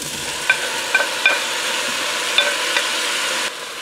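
Reserved beef hits a hot pot for a stew, sizzling steadily and close while a utensil scrapes and clinks in several sharp stirring strokes, with no talking.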